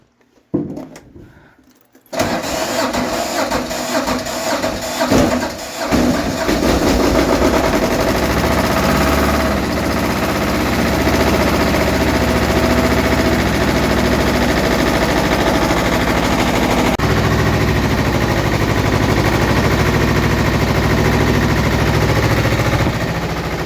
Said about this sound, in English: best way to start a diesel that's old and cold is a lot of glow plugs